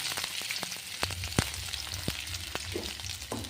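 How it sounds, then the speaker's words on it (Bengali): Chopped garlic and ginger frying in a pan, a soft steady sizzle with several sharp clicks and taps of a utensil against the pan, close but fairly quiet. "রসুন কুচি আদা কুচি দিয়ে এটাকে একটু ভালো করে ভেজে নেবো।"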